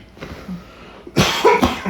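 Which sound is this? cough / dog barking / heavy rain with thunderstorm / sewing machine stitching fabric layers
cough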